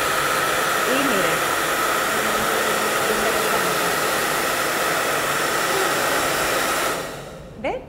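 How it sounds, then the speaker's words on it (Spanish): A hair dryer blows steadily at close range, heating the edge of a glued piece to loosen it, a constant loud airy roar that cuts off near the end with a brief bump. "Levanto de una orilla, me ayudo con el calor del secador de pelo."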